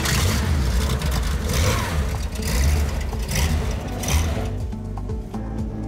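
Classic rally cars for the Tour Auto start up inside the Grand Palais Éphémère in Paris, engines running loud and close with throaty revs under a dense mechanical roar.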